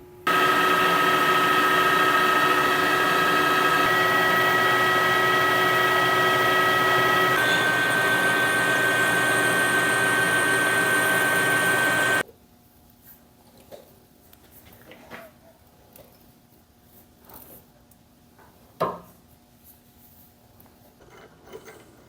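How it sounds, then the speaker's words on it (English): A lathe machining female threads for a piston bolt on a John Deere 27D mini excavator, a loud steady whine with a shift in pitch partway, then it stops, leaving quiet clicks and handling noises. "I just need to machine female threads for the piston bolt"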